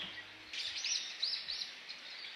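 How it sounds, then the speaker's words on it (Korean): Birds chirp and trill in short bursts in a forest beside a campsite with a stream, a few clear calls repeating over soft outdoor ambience. "여기 진짜 새소리가 장난 아니에요."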